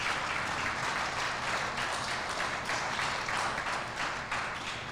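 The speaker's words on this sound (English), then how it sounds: "We'll give him a round of applause anyway." A room full of people at an anniversary celebration event gives a round of applause, a continuous, even clatter of clapping that holds steady for several seconds and thins slightly near the end.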